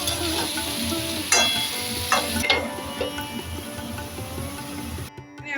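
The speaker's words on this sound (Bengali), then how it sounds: "লবণটা দিয়ে আবার আমি নেড়ে চেড়ে আবার ঢেকে দেবো" Salted vegetables are stirred in a pan over a continuous sizzle, with several distinct scrapes and clinks of the stirring utensil. The sound cuts off abruptly near the end.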